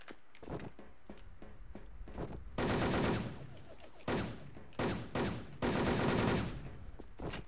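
Gunfire from a mobile battle royale video game, with scattered single shots, then several long, loud bursts of rapid automatic fire separated by brief pauses.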